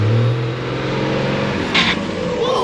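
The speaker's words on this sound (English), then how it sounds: "You gotta go balls to the wall, rev limit, dump that shit full angle." A dually pickup truck engine revs hard and loud near the listener, holding a steady high drone with a brief surge partway through, and no voices over it.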